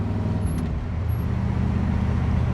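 1968 Chevrolet Camaro RS convertible shifting into fourth gear, a close engine drone that dips briefly as the shift happens and then settles back to a steady hum.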